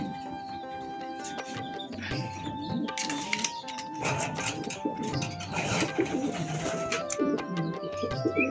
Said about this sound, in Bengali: এ হচ্ছে আমাদের রেসার কবুতর